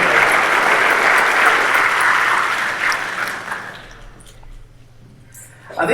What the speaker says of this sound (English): I think those guys deserve an extra round of applause